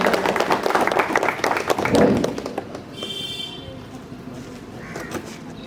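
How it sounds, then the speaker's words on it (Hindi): An audience at a youth discussion gathering claps loudly to welcome a guest for about two and a half seconds, mixed with voices, before the clapping fades into quieter room sound. "जोरदार तालियों के साथ स्वागत करेंगे"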